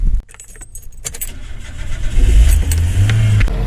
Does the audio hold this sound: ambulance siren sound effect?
no